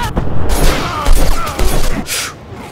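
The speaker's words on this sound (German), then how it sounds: "Und Misha geht gleich mal in die Explosion rein" An explosion in the video game The Technomancer: loud, dense booming blasts and crackling rumble fill the whole stretch, close and continuous.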